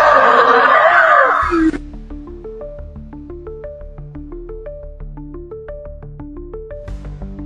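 A man's loud, strained scream fills the first couple of seconds in a leaked recording, then cuts off into a steady rising and falling synthetic melody of repeated electronic tones that plays on to the end.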